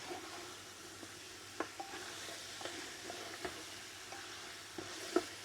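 Beef and onions frying over a wood burner outdoors, giving a soft continuous sizzle with light, sparse scrapes and taps of a stirring spoon, close but fairly quiet and without talk.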